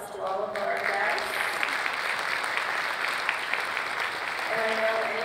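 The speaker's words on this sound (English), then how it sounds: "So let's give a round of applause to all of our guests" A seminar audience at a women veterans event applauds its guests, continuous clapping from a room of people, moderately loud, with traces of music or tones at the start and end.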